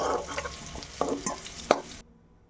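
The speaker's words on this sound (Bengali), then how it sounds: "ফুলকপিটা ভাজা হয়ে গেছে, এবারে ফুলকপি আমি কড়াই থেকে তুলে নিচ্ছি।" Fried cauliflower being lifted out of a wok with a spatula, soft scraping and clattering strokes over a faint sizzle of oil, a few distinct scoops before stopping abruptly.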